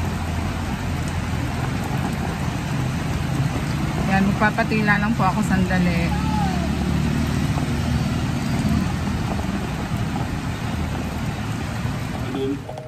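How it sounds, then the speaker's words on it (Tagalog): Steady heavy rain hisses and patters throughout, loud and constant, while a person speaks briefly over it. "inabutan po ako ng malakas na ulan"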